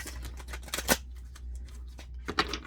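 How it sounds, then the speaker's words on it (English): A Neon Awakening tarot card deck being shuffled close up, with quiet papery riffles and a few sharp snaps against a low background hum. "I always like to make sure that I give it a few good shuffles"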